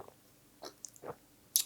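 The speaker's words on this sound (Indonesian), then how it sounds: "saya seruput dulu kopinya" Coffee is slurped in a few short, quiet sips, soft separate bursts spread over a near-silent background.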